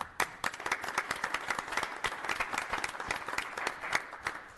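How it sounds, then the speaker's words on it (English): Applause at a city school board meeting as new tenured staff are recognized: a moderate round of many hands clapping steadily for several seconds in an indoor meeting room, with no talk over it. "Please give these individuals a round of applause for attaining tenure."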